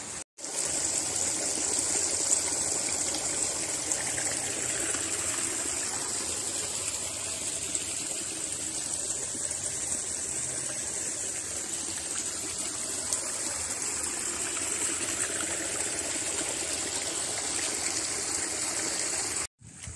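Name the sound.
waterfall on Monkey Hill trail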